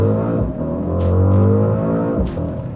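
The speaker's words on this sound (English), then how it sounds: "it only returns 2 to 3 kmpl once you hit hard on the A pedal like this" A Mercedes-AMG GLE 63 S Coupe accelerates hard, its engine a loud, close, rising roar with brief gear-change dips, heard from inside the car.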